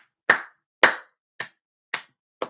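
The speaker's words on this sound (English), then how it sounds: "Round of applause." Five sharp, separate claps in a slow, uneven rhythm, loud and close, with silence between each one.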